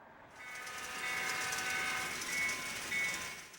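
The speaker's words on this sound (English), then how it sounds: "there are some still earning their keep on short-line railroads, such as this GP10 rebuild, working on the Winchester and Western Railroad in Virginia." A GP10 rebuild diesel locomotive working on the Winchester and Western short-line railroad in Virginia, heard as a steady rail rumble with a sustained horn-like tone drifting in and out at moderate distance, no talk.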